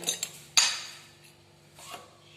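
A metal cooking pot set down on a gas stove for pumpkin raita: a couple of light clinks, then one sharp metallic clank, followed by softer faint rattles, close and without speech.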